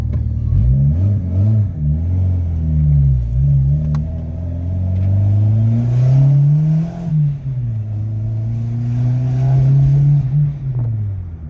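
A Honda Civic EM2 with boost on a test drive, its engine loud and close from inside the car, revving up through several rising and falling accelerations with a steady underlying rumble.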